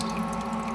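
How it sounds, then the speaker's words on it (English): Sparge water runs steadily through a homebrew mash on an imperial brown ale brew day, a soft, continuous trickle heard up close. "Got about 3 gallons of sparge water through here already."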